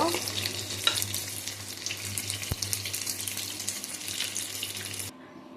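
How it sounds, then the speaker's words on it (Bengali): Battered crescent-shaped salad pieces frying crisp in hot oil, a steady close sizzle with a constant low hum beneath, one sharp clink midway, then the sound cuts off abruptly near the end. "কি সুন্দর ক্রিস্পি ভালো হয়ে গেছে দেখো কালারটা খুব সুন্দরভাবে ভাজা হয়ে গেল"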